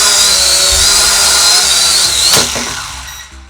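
Small motors of an Eachine E520s foldable 4K 5G drone spinning up into a loud, steady high-pitched whine that holds, then briefly surges before fading as they wind down.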